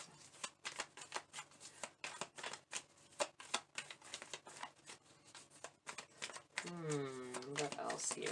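Tarot cards shuffled by hand in a rapid, steady run of crisp riffling flutters that carries on throughout, with a voice starting to speak toward the end.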